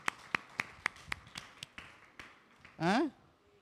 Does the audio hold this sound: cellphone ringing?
no